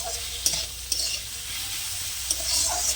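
Chili powder frying in fish oil in a pan, a continuous soft sizzle with a few sharp clicks of a utensil stirring and scraping against the pan.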